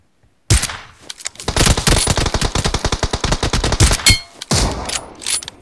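Rapid bursts of automatic gunfire rattle loudly in close succession in the video game BGMI (PUBG), with brief pauses and a few metallic pings between volleys.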